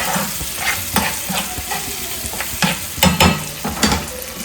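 Maggi noodles tossed through masala in a hot pan, with repeated scraping stirs over a steady sizzle and frying crackle, close and fairly loud.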